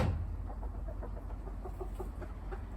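Hens cluck softly in a small run in a town back garden, a scatter of short, mid-distance calls over a constant low background rumble.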